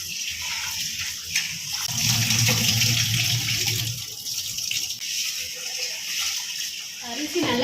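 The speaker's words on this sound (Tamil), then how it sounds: "அரிசி நல்லா கழுவி வச்சு இப்போ நம்ம ஊற வச்சுக்கலாம்." Rice being washed in water by hand for a home-cooked biryani, a steady sloshing, gushing wash close by that swells in the middle and then settles into softer trickling.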